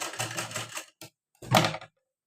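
A sewing machine stitches the back seam of a blouse in short rapid bursts of clattering needle strokes, two quick runs separated by brief silent pauses.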